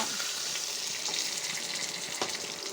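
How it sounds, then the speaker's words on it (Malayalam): Curry leaves crackle in hot oil in the pan for a prawn roast, a steady, fairly quiet sizzle with a few sharper pops and no voices. "ഇതാ പൊരിച്ച എണ്ണയ്ക്കന്നെ കറിവേപ്പിൻ്റെ ഇട്ടു"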